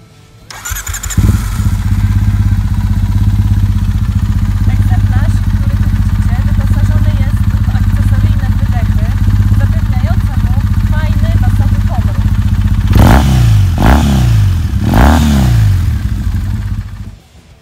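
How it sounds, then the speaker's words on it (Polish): A 2009 Triumph Bonneville T100 with an 865 cc carburetted twin-cylinder engine of nearly 70 hp idles steadily and loudly up close, then gets three sharp throttle blips that rise and fall near the end. "Motocykl ten posiada dwucylindrowy silnik o pojemności 865 cm3 zasilany gaźnikami."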